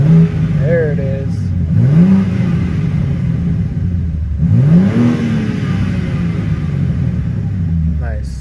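A 2023 BMW M3 revs its engine, the exhaust note rising and falling through two short climbs over a constant low rumble, close and loud, with someone talking under the engine noise.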